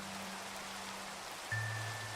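Steady rain falling in Minecraft, a soft even hiss throughout, with a low hum shifting partway through.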